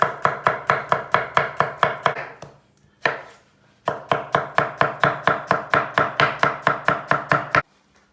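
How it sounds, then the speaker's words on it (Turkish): Three cloves of garlic chopped with a knife on a board: rapid, steady, crisp knife strikes close up, a brief pause and a short burst, then another long even run of chopping before stopping. "Soğana lezzet vermesi için hemen tabandan 3 diş bir sarımsak doğruyoruz."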